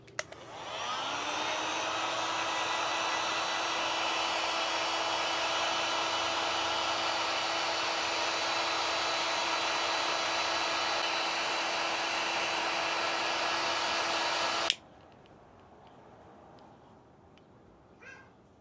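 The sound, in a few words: heat gun blowing on 3D puff embroidery on a New Era hat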